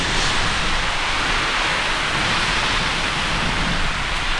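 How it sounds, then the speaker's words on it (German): Heavy rain hisses steadily and evenly throughout a bicycle tour along the Ochsenweg near Kupfermühle in Schleswig, with no one talking. "Oh, da ist richtig Regen."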